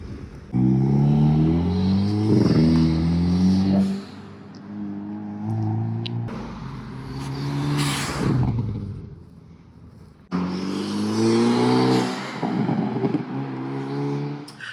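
A 2022 Hyundai Kona N with a newly fitted blow-off valve drives and accelerates, engine droning and rising in pitch through the gears, heard from inside the cabin with steady road rumble underneath.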